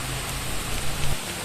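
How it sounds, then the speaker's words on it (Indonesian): Rain falls steadily on a forest campsite near a waterfall, a dense, even hiss with a low rumble beneath, no voices. "Hujan pun mulai turun di campsite."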